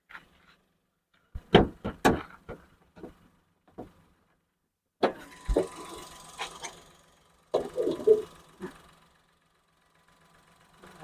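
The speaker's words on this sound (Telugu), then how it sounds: "ఇంజన్ చాలా బాగుంది, చాలా సైలెంట్గా ఉందండి ఇంజన్ వచ్చేసి" A quiet Maruti Alto car engine hums at idle, broken by a few sharp clunks and clicks nearby, with long stretches of near silence between them.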